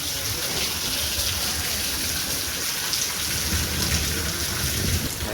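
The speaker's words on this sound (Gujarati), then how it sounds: "જો વરસાદ આવ્યો છે." Heavy downpour in a thunderstorm, with hail also stated, roars steadily and densely throughout, loud and close, with thunder mixed into the rain and no voices.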